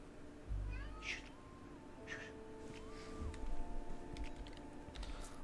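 A cat meows repeatedly, drawn-out wavering calls near the mic, while keyboard clicks and soft ticks sound over quiet room noise.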